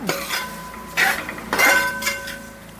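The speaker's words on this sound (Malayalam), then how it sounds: "ഒരു ചെറിയ സ്പൂണ് ഉലുവാപ്പൊടി ഇട്ട് കൊടുത്തു നന്നായിട്ട് ഇളക്കി കൊടുക്കാം" Spoon stirring fenugreek powder into cauliflower pickle, a few clinks and scrapes against the pot in short bursts, close and moderately loud with no talk.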